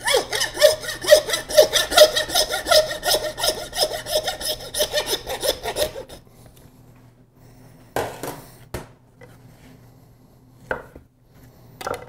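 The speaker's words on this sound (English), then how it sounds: "We'll then come with a saw to finish that off, just sawing right through the bone." A saw rasps rapidly back and forth through a pork hind shank bone in quick rhythmic strokes for several seconds, then stops, followed by a few scattered knocks and scrapes.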